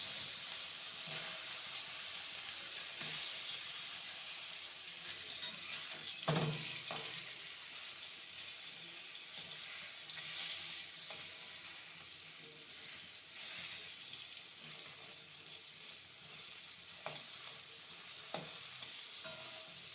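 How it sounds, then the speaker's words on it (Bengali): Koi fish frying in mustard oil in a wok, giving a steady close sizzle and hiss that runs unbroken with a few soft stirring knocks and no voices. "সর্ষের তেলে আমি ভাজছি মাছগুলো।"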